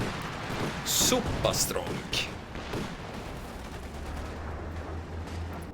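Gunfire and tank shots in a World War II strategy game match featuring a Panzer IV, with a few sharp bursts and booms under a caster's steady commentary.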